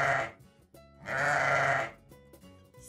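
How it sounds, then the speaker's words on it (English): A sheep bleats twice, a short wavering bleat followed by a longer, louder one, close by with nothing else around. "Sheep."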